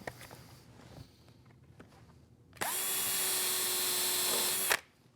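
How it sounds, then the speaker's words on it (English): A power drill drives screws into the wooden bin of a mobile lumber cart, a loud, steady high whine lasting about two seconds after quiet shop noises and a few soft knocks. "then it's back to drilling and driving for screws"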